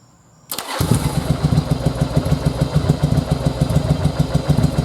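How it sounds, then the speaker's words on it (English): Yamaha Virago motorcycle engine firing up after a brief crank, then settling into a loud, throbbing V-twin idle with a steady pulsing rhythm. "if we fire this bike up,"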